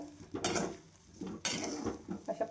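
Amla (Indian gooseberries) roasting in salt in a pan, stirred and tossed in two main bursts with gritty scraping and clattering against the metal, close and fairly loud, ending in a few quicker small scrapes.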